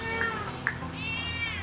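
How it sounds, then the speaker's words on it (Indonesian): A cat near a claw-machine arcade meows twice in short, high calls, then gives a longer, wavering cry, over a steady background hum of arcade noise, with no talking. "Iya, ada kucing."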